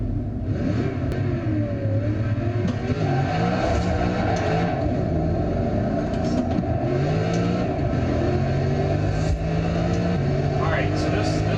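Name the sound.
Corvette Z06 engine revving in a racing video game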